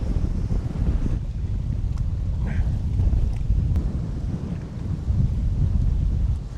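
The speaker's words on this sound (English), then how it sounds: "Man, this wind has really picked up," Strong wind roars across open water past a small paddled boat in smoky wildfire conditions, a loud steady low-pitched rumble buffeting the microphone throughout with faint water sounds and no clear talking.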